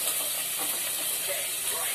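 Garlic sizzles in hot oil in a pan for chicken curry, a steady close hiss that stays even throughout, with no talk.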